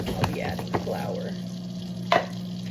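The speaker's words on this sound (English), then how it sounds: "cast iron pan, melting a whole stick of butter" A whole stick of butter melting in a hot cast iron pan, a steady soft sizzle with a low background hum and a few brief clinks and scrapes of a utensil.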